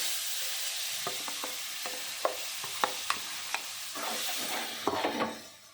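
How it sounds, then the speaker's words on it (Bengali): Ground lentil paste with green chillies fries in oil in a wok, a soft, fairly quiet sizzle punctuated by several sharp spatula scrapes and taps, fading out at the end without any voices. "এবার একটু কড়াইতে তেল দিয়েছি, এটা একটু হালকা করে একটু কষিয়ে নেব।"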